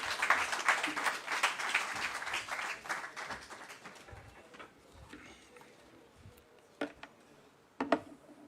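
An audience at a public forum on the collapse of the Bank of Ghana claps to welcome a speaker, with a brief burst of applause at the start that quickly thins to a few scattered claps and quiet.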